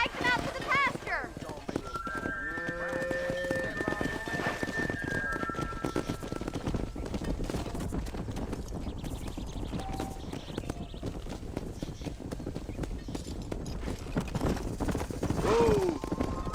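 Horses in Red Dead Redemption clip-clop steadily on a ranch, with a whinny early on and another near the end, while people talk over the hoofbeats.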